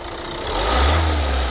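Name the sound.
car engine revved sharply while diagnosing a knocking fuel injector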